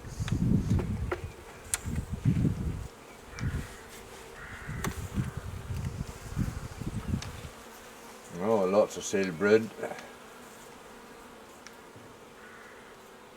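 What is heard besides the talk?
honeybees buzzing during a hive inspection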